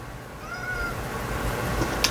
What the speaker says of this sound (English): I have a kitty cat over here talking to me.